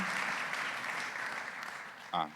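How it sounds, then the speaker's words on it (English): Audience applause after a keynote session at a plenary conference hall, a steady, distant patter of clapping that ends with a brief spoken voice. "Let's then final round of applause."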